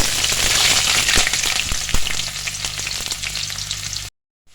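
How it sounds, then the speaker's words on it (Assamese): Onion and green chilli fry in hot oil in a wok with a loud, dense sizzle and sputtering crackle. Occasional sharp pops and stirring scrapes come through before it cuts to silence near the end. "এতিয়া কেৰাহী বহাই লৈ গৰম তেলত দিম পিয়াজ আৰু জলকীয়া"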